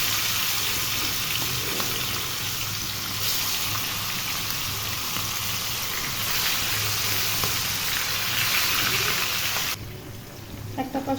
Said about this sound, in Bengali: এখন চিংড়ি মাছগুলো ভাজার জন্য দিয়ে দেব